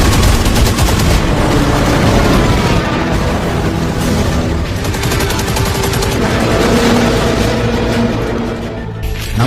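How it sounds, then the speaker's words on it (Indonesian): Dense, continuous gunfire in a World War II battle scene with heavy booms and rapid bursts, loud and sustained throughout, like a barrage of artillery and guns firing together. "Suara tembakan artileri mulai menggema menembus langit."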